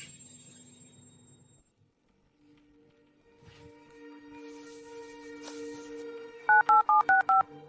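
Telephone keypad dialing tones: a quick run of about six evenly spaced beeps arrives at the end, after several seconds of quieter indoor background sounds.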